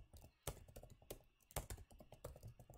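Brisk typing on a computer keyboard, close and clear, with irregular bursts of key clicks and a few louder thumps, likely the space or enter key, standing alone without talk.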